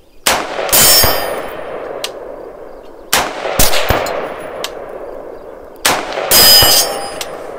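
Three rifle shots from a Bear Creek Arsenal rifle at an outdoor range, each a loud crack followed by a bright ringing clang from a steel target struck downrange, spaced a few seconds apart with long metallic decay.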